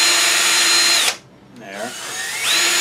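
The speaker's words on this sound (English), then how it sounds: "I'm using a brad point bit to make it easy to keep that thing centered." Power drill with a brad point bit boring a hole in wood for a turned chickadee ornament, a loud close whine that cuts out briefly and then spins back up.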